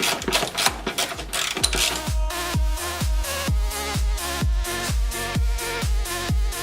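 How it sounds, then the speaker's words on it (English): A ratcheting wrench works a bolt on a Ford Taurus during suspension lowering, giving fast, loud, steady mechanical clicks in an even rhythm, close up. "Torque it down to 35 foot-pound. So using a torque wrench."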